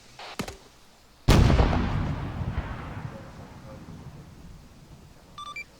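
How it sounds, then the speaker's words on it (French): In the video game ArmA 3, a sharp crack is followed by a heavy, booming explosion that rolls and fades slowly over several seconds, with a faint electronic beep near the end. "Je répète, multiple explosion derrière nous."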